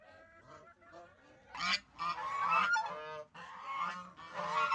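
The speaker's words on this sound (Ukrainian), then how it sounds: "дивіться, як качка вилетіла на той пень і зараз буде летіти" A duck flying off a tree stump honks repeatedly, goose-like, loud and close, in a run of harsh calls.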